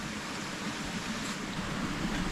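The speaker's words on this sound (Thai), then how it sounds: "กินข้าวฟังเสียงน้ำไหล" Water flowing along a jungle stream, a steady broadband rush with a soft low rumble that holds even and continuous throughout, no voices over it.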